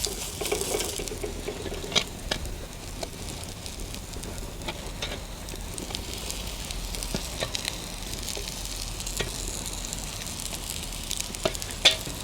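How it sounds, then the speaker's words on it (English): Corn dodgers frying in a hot pan, giving off a continuous crackling sizzle with scattered small pops, close and steady from start to finish. "Then I'll add a bit of our corn dodgers in. Oh yes, that's cooking away nicely."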